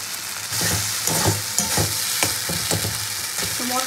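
A spice paste fries in a pan under a loud, constant sizzle while a spoon stirs it in quick repeated scraping strokes, close to the listener, with no speech.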